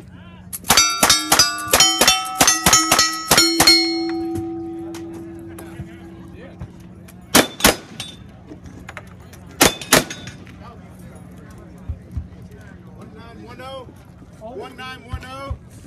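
Pistol shots ring off steel targets during a Cowboy Action Shooting stage at the Winter Range 2017 match: a rapid string of about ten sharp cracks and clangs, then a few isolated shots spaced seconds apart over outdoor background noise.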